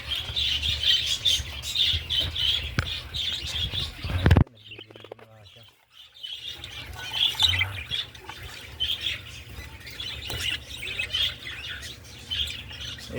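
Breeder birds and their newly hatched chicks call from inside a cage, with busy chirps, tweets and squawks running through most of the stretch, plus a short wing flutter and a brief quiet gap partway in.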